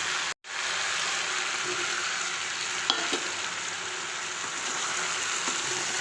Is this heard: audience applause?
no